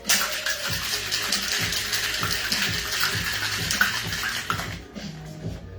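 A cocktail shaker packed with ice is shaken hard for a French Martini, a fast, even rattling that runs for several seconds and then stops abruptly.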